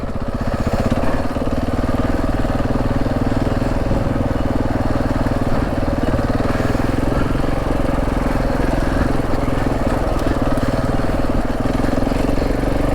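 A KTM 690 motorcycle rides a dirt track, its single-cylinder engine droning steadily and loudly throughout with little change in pitch, close to the rider and mixed with wind rumble.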